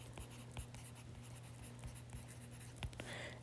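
Pen or marker writing a chemistry formula by hand, a faint scratchy run of short strokes and taps with a low steady hum underneath and no talk.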